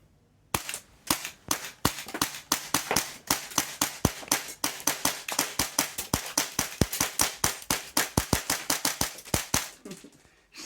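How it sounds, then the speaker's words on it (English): Sharp, close shots crack from a Tokyo Marui MP7A1 gas blowback airsoft gun with a slow, sticky nozzle return, fired at a plate carrier in a long string of dozens of evenly spaced pops that grows quicker before ending. "I'm shooting against my plate carrier, so it's used to getting shot."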